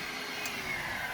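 A Lindhaus vacuum cleaner runs with a steady, continuous motor whine and airflow hiss, close and even throughout with no voices.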